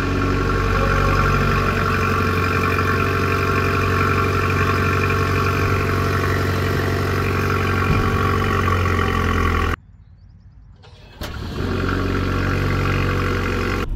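BMW X3 20 xDrive G45 engine cold start settles into a steady, close idle hum that runs for about ten seconds, cuts out briefly, then resumes with no speech over it.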